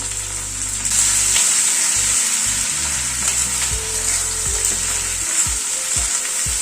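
Garlic and ginger paste frying with onion and capsicum in a hot pan, a loud, steady sizzle with occasional stirring scrapes and no voices.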